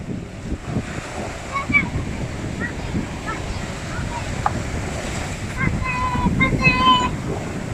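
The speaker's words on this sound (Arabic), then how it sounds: "الموج مسح النخل" Sea waves wash over the shore near a heritage fort in Rijal Almaa, a steady rushing surf roar with wind buffeting the microphone, while people speak faintly beneath it.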